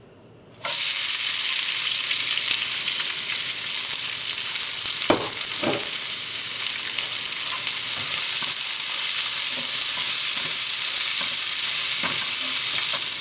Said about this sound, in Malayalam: നമുക്കിതിലേക്ക് അരിഞ്ഞു വെച്ചിരിക്കുന്ന സവോള ചേർക്കാം.